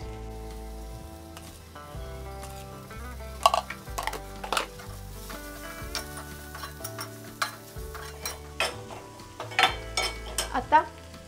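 Onions with turmeric, red chili powder and salt stir-fried in a pan for anda bhurji: spatula scrapes and clinks against the pan over a faint sizzle, with tonal background music running throughout and no talk.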